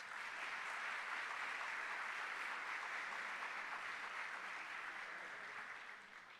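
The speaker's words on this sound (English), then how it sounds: "let's give them another round of applause" A crowd at a school superintendents' conference applauds steadily with dense clapping throughout, then the applause starts fading toward the end; no one speaks.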